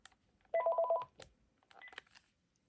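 A Panasonic KX-TG5583 cordless phone sounds its intercom tone, a short run of quick electronic beeps followed by a softer pair of tones, close by and faint, with no talk.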